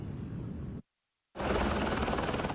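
Steady whirring rotor noise of a search helicopter over Laguna Beach, broken by a brief moment of total silence before the droning resumes, louder than before.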